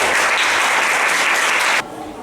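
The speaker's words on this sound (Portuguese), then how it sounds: "Palmas para o Senhor." A church congregation claps in praise, a dense, loud burst of applause that cuts off abruptly, leaving a brief quieter tail.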